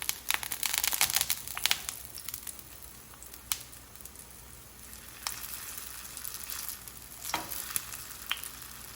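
Sesame-coated tofu sizzles in a frying pan, a steady close crackle of hot oil with occasional sharper pops and scraping stirs, no voices.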